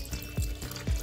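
Warm milk, a cup of it, is poured into a blender already holding eggs for a fluffy chocolate cake batter, giving a short splashing, gurgling liquid sound in a few close pulses with no talking.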